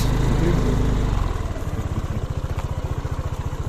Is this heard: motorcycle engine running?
yes